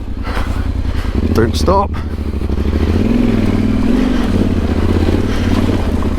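A Yamaha Tenere Rally motorcycle labours up a steep, rutted off-road trail. The engine is loud and close throughout, with a steady throbbing drone and revs that rise and fall, while the rider speaks briefly over it.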